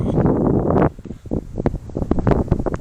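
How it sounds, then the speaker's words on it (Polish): Strong wind on Mount Teide buffets the microphone in a loud, steady roar, then drops away to gusty rustling and scattered bumps. "i bardzo wieje wiatr"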